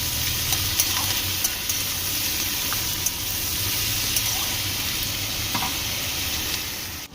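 Vegetables fry with a constant loud sizzle while a spoon stirs them, giving occasional light scrapes and clicks against the pan.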